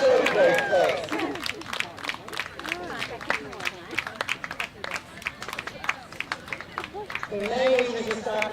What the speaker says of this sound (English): Big round of applause for our utility breeds